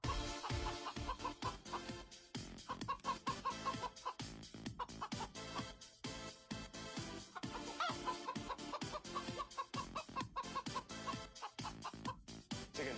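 Dense, rhythmic clucking mixed into upbeat music, the chicken sounds steady and loud throughout the whole stretch with no speech on top.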